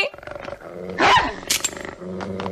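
A cartoon dog, tied up, growls low and rough with snarling bursts, loud and close, over background music and sound effects in an animated Doraemon episode.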